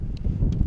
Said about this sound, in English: Thank you so much for joining us here on this very windy afternoon, as I'm sure you can hear.